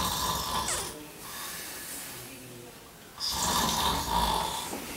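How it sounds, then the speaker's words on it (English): A person snoring in a repeated rhythm, each long rasping inhale rising loud and close, separated by quieter breathing pauses, with no talk. "If you or your sleep partner is snoring like this"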